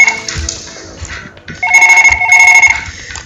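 A loud electronic ringtone trills in the Surgeon Simulator video game. It rises over some quieter game noise, then rings steadily in two pulsed bursts through the latter half.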